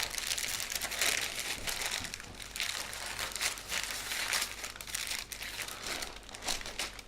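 Paper crinkling and crumpling steadily as a bacon-wrapped pork tenderloin is rolled up in it, close and continuous with rustling bursts throughout.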